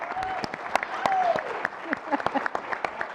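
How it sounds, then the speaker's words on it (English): Audience applause at a Hispanic congressional leadership luncheon as a speaker is welcomed to the stage, dense steady clapping from a sizable crowd with a few louder claps and whoops rising above it. "please help me welcome Pete Aguilar from California"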